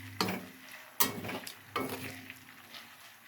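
Chicken fries in groundnut oil for chicken pickle, a faint low sizzle punctuated by three sharp spoon or pan knocks at roughly even intervals, no voices.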